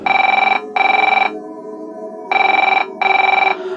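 A telephone rings in four loud electronic bursts, two quick rings, a pause, then two more, with faint background hum between.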